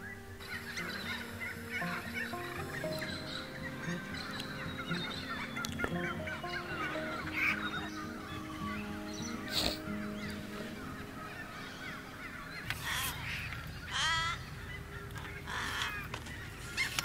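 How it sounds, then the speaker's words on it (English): Morning birds call at an outback Australian campground, a busy mix of honking and gobbling-like calls that come near and far over a soft tonal background, growing sharper and louder toward the end. "The morning bird life here at this particular campground was crazy"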